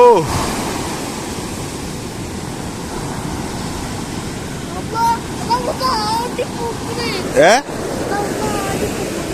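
Steady roar of sea waves and surf with wind, continuous throughout, with a louder wash near the end.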